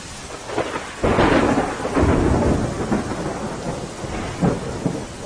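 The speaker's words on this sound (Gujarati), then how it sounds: "મહીસાગર જિલ્લાના લુણાવાડામાં મોડી રાતથી ધોધમાર વરસાદ થઈ રહ્યો છે" Heavy rain pours steadily in Lunawada, Mahisagar district, Gujarat, while thunder rumbles loudly, swelling in deep rolling bursts that rise and fade across the downpour.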